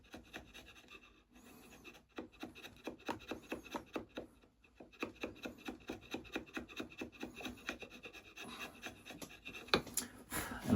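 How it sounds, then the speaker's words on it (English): Wood chisel shaving a wooden gun buttstock in a repair, heard as a steady run of short scraping strokes in quick rhythm, close and fairly quiet, with a brief pause midway and a louder knock at the end. "The key is to not take off too much with these wood chisels."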